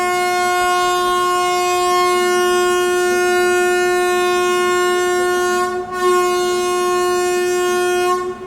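A Vijayapura–Hubballi passenger train sounds a long, loud, steady horn as it departs Ibrahimpur station, holding one sustained chord close by for about eight seconds before a brief break and a final tail.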